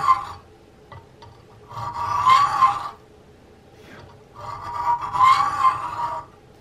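A hand saw cutting the wooden stock of a Hawken rifle kit, two long rasping strokes and a couple of shorter ones, close and fairly loud, separated by brief quiet gaps.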